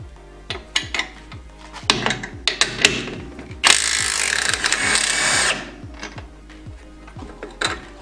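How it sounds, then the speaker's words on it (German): A nut is undone on a shock absorber of a Mercedes-Benz W140 S-Class 500 SEL. Rhythmic ratchet clicks and metallic clinks come first, then a two-second burst of power-tool whirring, then more scattered ratcheting. "Dafür schraubt man die Mutter hier ab und schon kann man den Stoßdämpfer rausnehmen."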